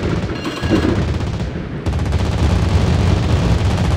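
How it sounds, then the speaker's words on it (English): An anti-aircraft gun fires at enemy aircraft in a naval combat video game, a loud, continuous stream of rapid shots with a brief dip before the barrage resumes. "Enemy aircraft incoming. Anti-aircraft gun on full alert."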